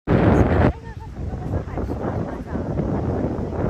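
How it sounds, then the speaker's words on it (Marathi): Strong wind at a beach buffets the microphone in a loud roaring rush as rain approaches, with a sharper gust at the start, then a steady rumble. "कसला वारा येतोय"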